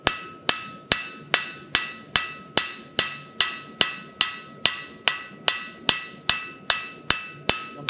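A blacksmith's hammer forges steel on an anvil in a quick, even rhythm of about twenty sharp ringing strikes, each blow close and loud with a short metallic decay before the next, and no talking.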